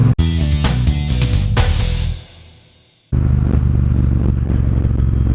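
A Triumph Bonneville Bobber motorcycle rumbles loud and close with clattering bursts, fades away into near silence for about a second, then a steady engine roar returns.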